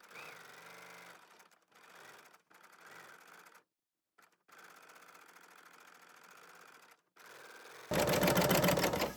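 A serger stitches along wire edge ribbon through a metal foot, a fast mechanical whirring chatter in several short bursts separated by pauses, with a louder, harsher run at the end.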